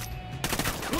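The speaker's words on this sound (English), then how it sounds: "Opening fire." Gunfire from Ghost Recon Wildlands erupts after a quiet lead-in, a loud burst of rapid overlapping shots filling the back half of the moment.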